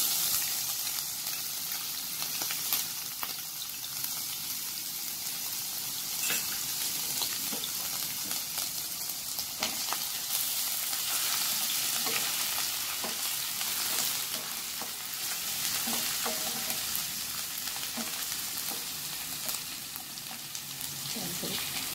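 Ginger garlic paste frying in a little oil in a pan, a steady close hiss and crackle of sizzling that holds evenly throughout, with faint stirring clinks.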